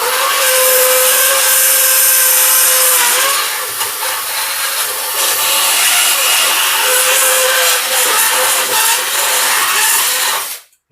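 Power drill boring into a metal reinforcement bracket for a Mazda RX-8 clutch pedal, a loud, close, continuous whine with slight pitch shifts for about ten seconds before stopping abruptly.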